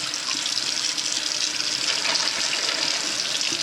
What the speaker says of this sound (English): I usually rinse it off anyhow.